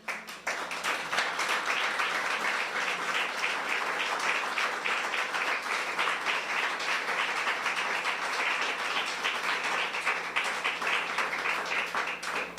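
A church congregation claps continuously at a worship service, a dense, steady round of applause that runs throughout without talk.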